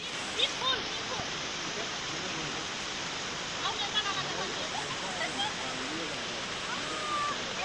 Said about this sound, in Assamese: খানা খাই থাকোঁতে হঠাৎ ইমান ডাঙৰ বৰষুণ আহি গ'ল